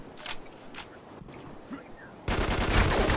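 Gunfire in Spec Ops: The Line multiplayer: a few faint, sparse shots early on, then a dense, loud burst of continuous firing in the final second.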